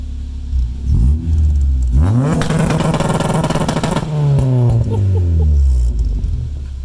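Honda Civic engine being revved as it warms up, with sharp rising and falling revs and a loud sustained burst in the middle, close by and alone.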